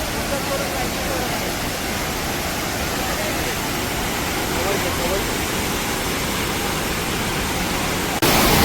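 A steady, loud roar of falling water fills the whole stretch, broadband and unbroken, from the nearby Umbrella Waterfall at Bhandardara Dam.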